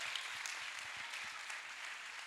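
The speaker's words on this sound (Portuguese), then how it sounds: "Aplauda Jesus se você é crente." Church congregation at a youth congress applauding, a faint, steady wash of distant clapping with a few low thumps underneath.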